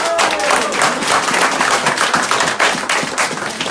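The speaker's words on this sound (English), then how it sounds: "Give them a huge round of applause" Loud, dense applause and clapping from a crowd of onlookers right after a house sells at a real estate auction in Ringwood East, Melbourne, sustained throughout at close range.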